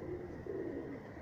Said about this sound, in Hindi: ये नया कबूतर आया है